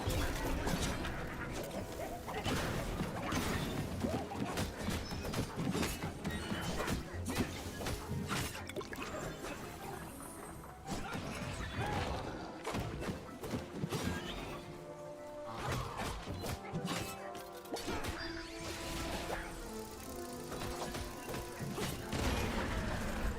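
Bombs exploding in the video game Towerborne, with dense, continuous crashing and clattering combat effects that stay loud throughout, with no talk.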